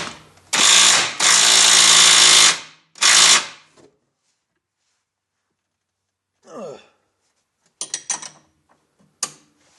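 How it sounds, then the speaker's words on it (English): Pneumatic impact gun hammering control arm bolts tight on a Mitsubishi Eclipse, three loud close bursts, the middle one longest, followed by quieter handling clatter and clicks after a silent gap. "a decent impact gun will get those nice and tight to where it won't flex like I showed you in the vise."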